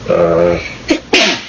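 A single sharp sneeze bursts out close by, right after a stretch of a sustained voiced sound, with a short breathy intake just before it.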